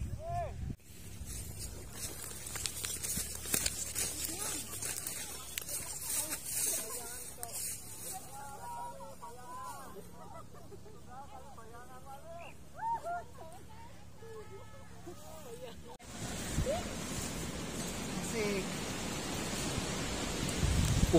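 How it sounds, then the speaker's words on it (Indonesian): Strong gusting wind roars across a rainy mountain trail on a hike toward a 2050 m summit. A steady broadband rush runs throughout and grows louder and rougher near the end, with people talking over it in the middle. "Suara anginnya seperti suara motor mabur."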